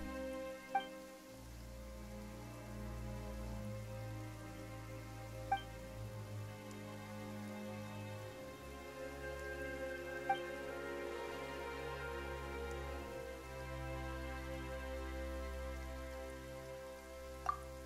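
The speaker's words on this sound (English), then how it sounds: "Why is it raining all of a sudden?" Steady rain pours throughout a Fontaine story quest scene in a video game, a soft continuous hiss over low sustained music, with a few faint bright chimes now and then.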